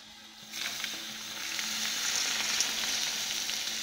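Milk poured into melted butter in a hot pan sets off a sudden close sizzle that swells into steady crackling frying noise, with faint stirring and no talk.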